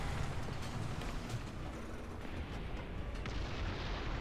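A German tank cannon fires in a battle setting, heard as a continuous heavy rumbling roar of low booms that stays loud and dense throughout, with no voices.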